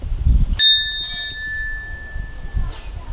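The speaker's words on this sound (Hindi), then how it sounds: "मन्नत की घंटियां बंधी हुई ढेर सारी घंटियां।" A single bright metal bell rings once at a Parvati cave temple in Bhojpur near Bhopal, where many wish bells hang, its tone ringing out long and clear over a low background rumble.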